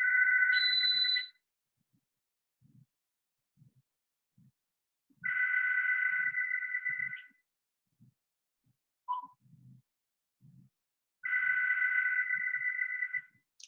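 A telephone rings in repeated electronic trills, three long bursts separated by pauses of a few seconds, fairly clear with faint knocks between rings.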